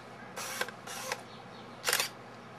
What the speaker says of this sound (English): Let's see if the shutter works.